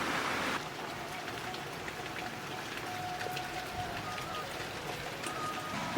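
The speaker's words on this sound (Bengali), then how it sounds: "বৃষ্টি নামতেছে" Steady rain falls during a low-pressure storm day at a rural home, making a continuous soft patter on surfaces, with a brief louder gush at the start and faint tonal background sounds.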